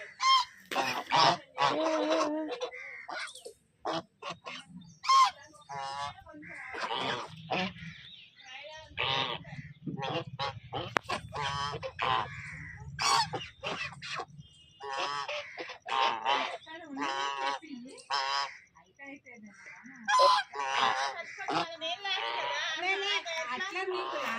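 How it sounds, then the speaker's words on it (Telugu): Large domestic ducks quack and honk loudly and often, close by and in ragged bursts, with someone talking throughout between the calls. "బాతులు"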